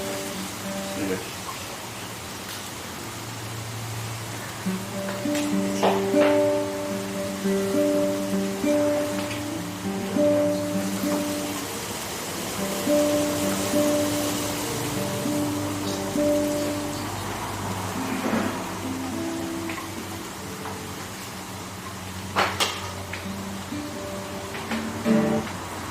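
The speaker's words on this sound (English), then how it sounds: "The rain is wild." Heavy rain from a Sydney storm hisses steadily outside, a broad wash of noise under indoor talk and faint tones.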